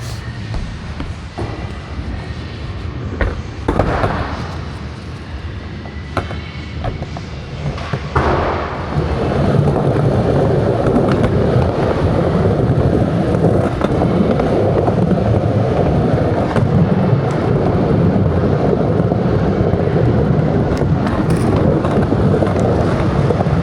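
Skateboard on Nano Rats 97a 54mm wheels bombing fast around a skatepark, a steady loud rolling roar with occasional thumps and clacks, building to a continuous rumble with wind noise.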